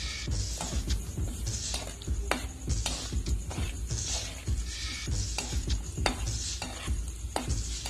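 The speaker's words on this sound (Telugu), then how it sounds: "ఇప్పుడు మనం ఇదే నూనెలో 1 కప్పు వేరుశనగ గుళ్ళు వేసుకుని బాగా ఫ్రై చేసుకోవాలి" Raw peanuts frying in hot oil in a pan, with a steady sizzle broken by repeated sharp scrapes and clinks of a spoon stirring against the metal throughout.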